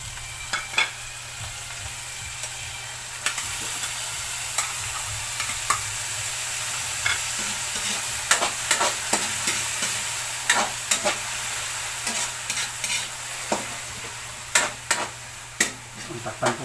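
Tomatoes sizzle in a frying pan as they are stirred, a steady frying hiss broken by scattered sharp clicks and scrapes that grow more frequent toward the end.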